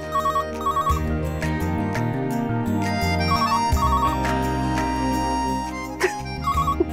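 A telephone rings in repeated short double trills over loud background music, the ringing recurring several times throughout.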